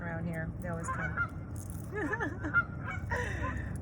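A family of geese honks repeatedly in the background, the calls rising and falling over a steady low hum, with a person speaking intermittently at times.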